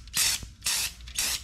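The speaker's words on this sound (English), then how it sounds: "Spray off your clutch pressure plate." Three short hissing bursts of spray cleaner aimed at a clutch pressure plate during a Lexus GS400 manual transmission swap, evenly spaced, close and fairly loud with brief pauses between.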